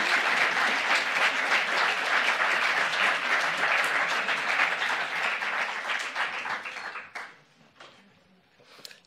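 Applause at an animal-rights pleading competition, dense and steady for about seven seconds as a speaker comes on stage, then thinning to scattered claps near the end.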